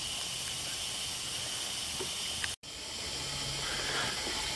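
An MSR Reactor camping stove burns on a frozen gas canister, giving a steady, faint, even hiss that runs unbroken apart from a momentary dropout, with no talk.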